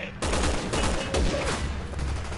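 Dense, continuous gunfire against a fuel truck in the Resident Evil 6 video game, a loud, sustained barrage of overlapping shots that starts abruptly and holds steady throughout.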